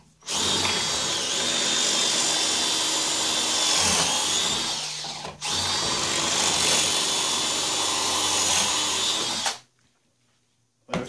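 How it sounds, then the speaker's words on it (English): Power drill boring holes through wood while building a gate for a goat barn: two long, loud, steady whining drill runs separated by a brief pause, ending abruptly in near silence. "So let me get the holes drilled here first."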